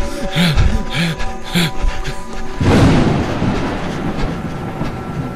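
A train in motion, heard from inside a passenger compartment: rhythmic rumbling and clatter builds into a loud, continuous roar with no voices.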